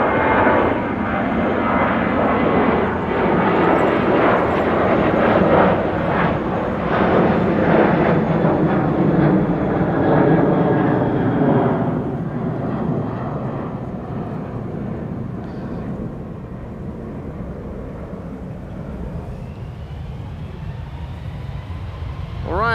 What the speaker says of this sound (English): KLM in the meantime taking off